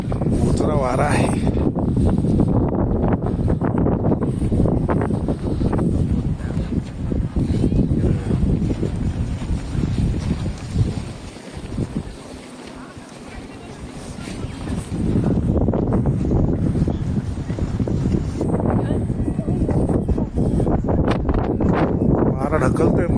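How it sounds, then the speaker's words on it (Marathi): Wind buffets the microphone high on Mount Titlis in Switzerland at about two degrees, a loud, constant rushing that eases briefly midway, while people talk over it. "वारा आहे."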